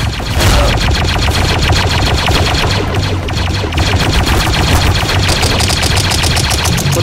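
Sustained, loud rapid-fire blaster and machine-gun bursts in a Star Wars roleplay game, an unbroken close rattle over several seconds with echoing reports and no talk.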